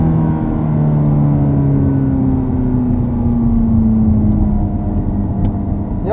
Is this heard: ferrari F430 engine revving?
yes